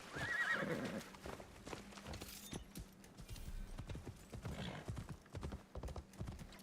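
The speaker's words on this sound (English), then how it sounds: "it's gonna be fastest to just ride the horse over" A horse's hooves clip-clop in a steady trotting rhythm while it is ridden in the video game Assassin's Creed Shadows, with a whinny near the start and soft background game ambience.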